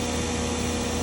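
A Fadal VMC 2216HT CNC vertical machining center, a 2007 machine, runs its spindle at about 3,000 RPM, giving a steady, fairly quiet mechanical hum with no breaks through the short stretch.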